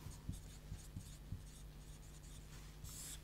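Marker or chalk writing a long word on a classroom board during a science lesson, a quiet run of short scratchy strokes with brief taps, faint and alone with low room hum.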